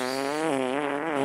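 A single drawn-out fart rings as a buzzy, wavering tone, loud and close, lasting just over a second with no pause.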